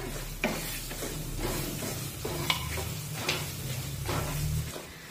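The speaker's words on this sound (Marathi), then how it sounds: "सोबतच यामध्ये हे बारीक करून घेतलेले केळीचे काप टाकूया, मिक्स करून घेऊया" Finely chopped banana slices stirred into semolina sheera in a pan, soft scraping strokes and a gentle sizzle with occasional clinks of the spatula, close and continuous, no voices.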